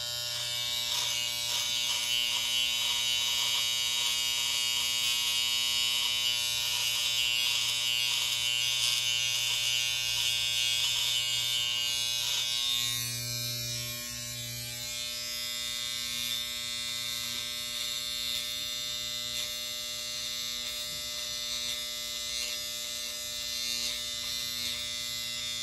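An electric beard trimmer buzzes steadily close by as it cleans up a big beard under the neck, a continuous loud hum with a brief shift in tone partway through and no talking.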